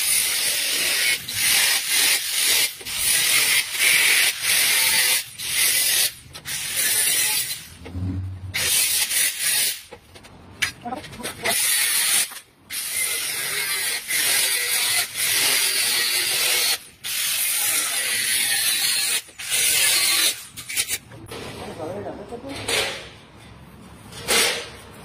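Sheet metal is cut for a curved tubular frame in rapid, rasping snips, a dense series of harsh scraping strokes with short pauses between bursts, loud and close.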